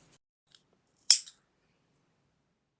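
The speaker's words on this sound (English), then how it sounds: "and then cut the yarn." Scissors snip through a strand of knitting yarn in a single quick, crisp cut, close by and quiet, with no other sound around it.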